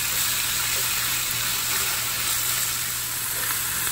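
Beef sizzles steadily as it fries in hot oil in a pan, a dense, continuous hiss with no pauses and no talk.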